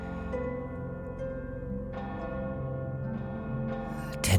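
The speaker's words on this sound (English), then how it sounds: "10 chimes." A bell in the video game Oblivion Remastered tolls in a slow series of resonant chimes, each strike ringing into the next, loud and alone.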